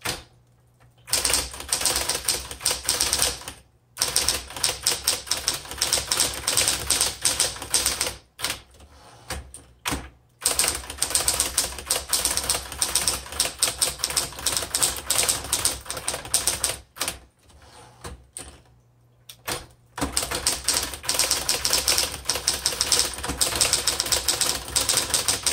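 A 1968 Smith Corona Electra 120 electric typewriter clatters through steady runs of close, loud keystrokes with a constant motor hum, broken by a few short pauses.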